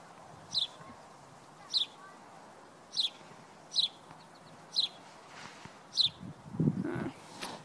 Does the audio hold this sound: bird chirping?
yes